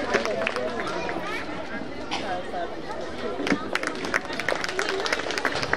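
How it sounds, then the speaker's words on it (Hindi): Audience applause at a school Mother's Day event, a sustained crowd of clapping hands mixed with chatter and murmuring voices throughout, fairly loud and steady with occasional sharper claps. "एक बार जोरदार तालियां और बजाएं हमारे साथ फाउंडर सर के लिए।"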